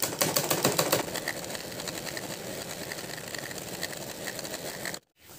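A sewing machine stitches a seam on a salwar, running in a steady fast mechanical chatter that starts louder and busier, settles into an even whir, then cuts off abruptly near the end.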